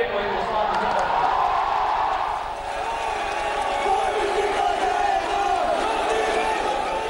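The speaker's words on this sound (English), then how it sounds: "impatient crowds heckled the chief minister, his deputy and even the home minister" An impatient crowd at a political rally heckles and shouts slogans, a dense, loud roar of many voices that stays sustained and continuous.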